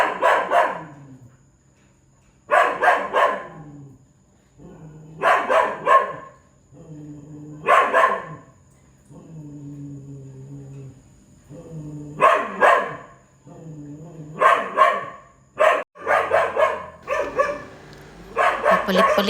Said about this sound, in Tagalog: Non-stop magtahol ang mga aso na yan